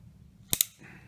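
Two sharp, close shots from a Colt Single Action Army .45 revolver firing Ultramax 200 grain ammunition, a quick double crack in quick succession.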